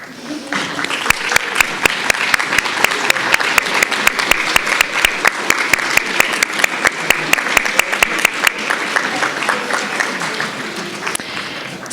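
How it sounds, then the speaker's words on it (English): Loud audience applause at a spring university student awards ceremony as family members are honored, dense clapping sustained for about ten seconds before thinning out near the end. "ask your family members to stand up so that we can give them a round of applause"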